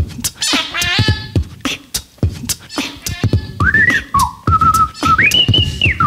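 A person whistles in imitation of DJ record scratching, producing quick chirping pitch swoops and stuttering bursts, then longer gliding tones rising and falling, close and loud with short gaps between phrases.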